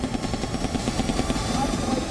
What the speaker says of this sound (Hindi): बैटलफील्ड पर 2 अटैक हेलीकॉप्टर आए, रुद्र और अपाचे